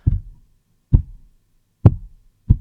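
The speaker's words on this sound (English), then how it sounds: "You notice when I touch the table" Hand tapping or knocking on a tabletop, picked up through the stand by a FIFINE AM8 USB/XLR dynamic microphone: four separate low, boomy thumps spaced roughly a second apart, close and fairly loud, with no talking.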